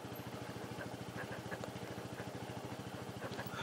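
Motorcycle engine idling and chugging steadily on a rocky mountain road, a close, even low pulsing throb that runs the whole time, with a faint clatter over it.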